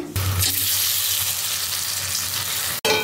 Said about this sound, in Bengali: লাল করে ভাজা হয়ে গেছে